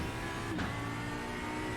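An Audi R8 LMS EVO II GT3 race car's engine drones loudly and steadily around Laguna Seca in iRacing, holding a high, sustained pitch with a brief shift-like dip partway through.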